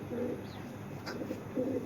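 A Python-breed pigeon gives soft, low coos in two short bursts, one at the start and one near the end, close by against a quiet background.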